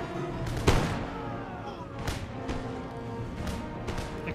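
Howitzer artillery firing in the Empire Total War battle game, several heavy booming shots landing at irregular intervals over a busy background of distant battle noise.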